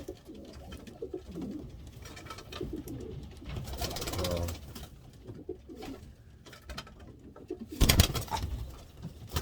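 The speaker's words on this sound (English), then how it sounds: "So here's the bird I picked up from Jerry" Pigeons in a breeding loft, soft repeated cooing at close range mixed with rustling and a sharp flutter or knock, with light movement noise throughout.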